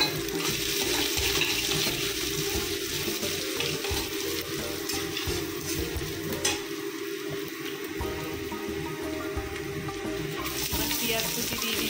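Mustard seeds and chopped ginger sizzle in hot oil, a steady broad hiss with crackling bursts running throughout, fairly loud and close.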